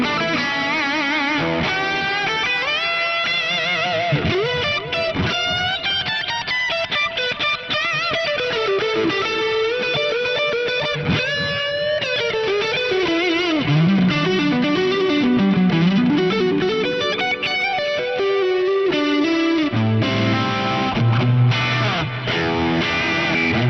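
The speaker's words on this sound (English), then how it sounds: "the griddle cake with a bit more gain and the Aurora delay, even without the reverb, together with the ODS clean and that rumble cab, is a great lush lead sound" Electric guitar plays a lush lead through a Fractal FM3 MK2 Turbo with added gain, Aurora delay, ODS clean amp and rumble cab, sustained distorted notes and bends ringing out continuously with no talking.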